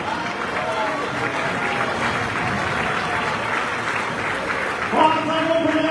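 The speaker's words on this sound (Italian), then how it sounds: "Forza con gli applausi che se li meritano questi ragazzi!" A crowd at a rainy outdoor gala race event claps and cheers for passing runners, a dense wash of applause under a loud announcer's voice.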